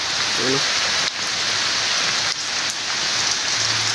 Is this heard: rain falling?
yes